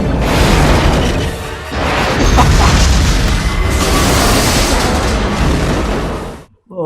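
Missiles explode in the 1998 film Godzilla, producing a sustained, loud, rumbling roar of blasts and debris that fills several seconds before cutting off abruptly.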